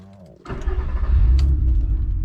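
Nissan R32 car with 150,000 kilometers on it cranking briefly before the engine catches and fires loudly, settling into a deep, steady idle close by.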